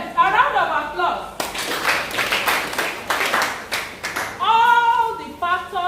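An audience at a community symposium on drug-abuse prevention claps in a burst of dense, loud applause lasting a few seconds, with a speaker's voice before and after it.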